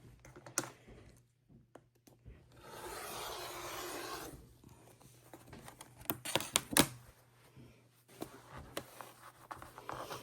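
Fabric is cut into 6.5 inch strips for a scrappy quilt, a steady scraping cut of about a second and a half in the middle, with scattered light taps and clicks before and after and no talking.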